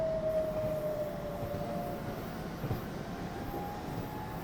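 BR423 electric multiple unit departing Cologne in Train Simulator 2021: a steady, even rolling rumble with a thin rising motor whine, continuous and fairly loud.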